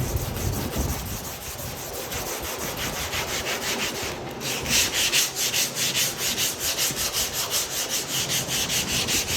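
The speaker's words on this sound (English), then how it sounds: "And we'll sand this." A car body panel is block sanded by hand, a continuous close rubbing scrape that becomes rhythmic back-and-forth strokes in the second half.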